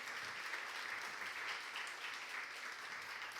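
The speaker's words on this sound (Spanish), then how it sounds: "Dale un aplauso a Jesucristo que está en medio nuestro." A church congregation at a Sunday service applauds continuously, a dense, even wash of many hands clapping heard from a distance at low level, with no speech.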